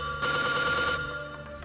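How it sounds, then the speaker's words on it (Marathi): A telephone rings indoors in a Marathi TV serial scene, one steady electronic ring burst, moderately loud and alone with no talking. "बहुतेक आधीचाच फोन असणार."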